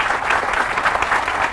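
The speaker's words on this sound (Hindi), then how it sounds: "इस बात पे जोरदार तालियां होनी चाहिए हमारे" Enthusiastic applause from a crowd, dense steady clapping filling the whole moment.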